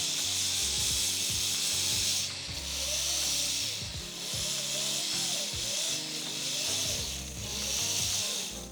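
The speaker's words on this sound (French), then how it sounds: "je vais venir repasser un petit coup avec ma brosse à mater" A matting brush scrubs back and forth over a brass heart earring after pickling, making a close, rhythmic rasping rub over a constant high background hiss.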